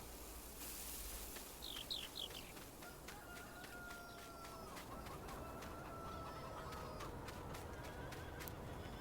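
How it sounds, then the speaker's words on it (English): Chickens in full pens in Farming Simulator 19, faint clucks and a few short honking calls over a steady low background hum, with scattered clicks. "these chickens may have just a little bit more, even though both pens are now full of chickens"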